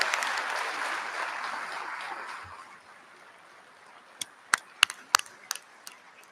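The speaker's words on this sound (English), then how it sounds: "Please join me in thanking them with a big round of applause." A commencement crowd applauds to thank the professors, broad clapping filling a large space for a few seconds then fading, with a few scattered isolated claps trailing off afterward.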